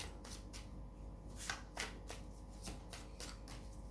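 Tarot cards are handled and laid out on a table for a spread, with soft close snaps and slaps of cards in an irregular rhythm over faint background hiss.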